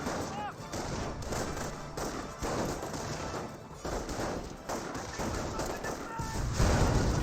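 Rifle squad gunfire in the World War II strategy game Company of Heroes, a steady sustained fusillade of scattered rifle shots and thuds, heard faintly under a commentator's ongoing talk.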